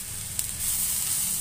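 Bitter gourd pulp hits a hot pan and sizzles, a steady bright hiss that swells louder after a small clink partway through.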